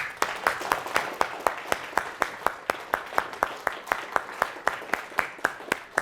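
Audience at a datathon clapping in a steady, synchronized rhythm, sharp even claps about three per second, loud and close in a room, continuing throughout.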